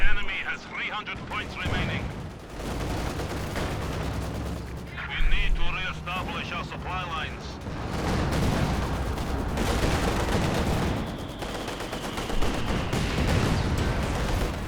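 Tank and infantry gunfire in the strategy game Company of Heroes 2, with the T-70 light tank firing amid repeated booming shots and crackling small-arms bursts, loud and continuous under steady commentator talk throughout.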